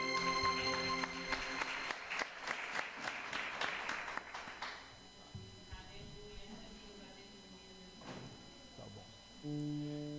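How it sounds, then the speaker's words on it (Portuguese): A church congregation claps for the Lord in a lively burst of applause lasting several seconds, which then fades as a voice takes over against a humming background. "Aplauda o Senhor, amém?"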